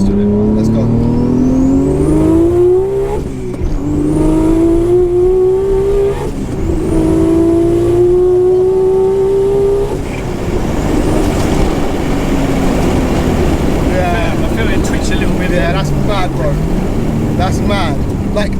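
A Nissan R34 GT-R accelerates hard, its loud engine climbing in pitch through three quick gear changes, then roaring on at high revs close by, with people talking over it.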